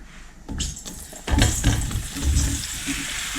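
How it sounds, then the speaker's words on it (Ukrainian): Mushrooms sizzle and crackle in hot oil in a pan, the frying swelling louder as they are stirred, close and continuous. "розігріваю олію та відправляю смажитися гриби"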